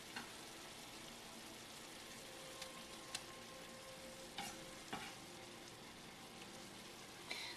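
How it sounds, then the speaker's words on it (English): Diced tomato sizzles steadily in a hot sauté pan over medium heat, a faint, even frying hiss with occasional soft stirring ticks and no talk. "we have our tomato diced, and we can add that to the pan"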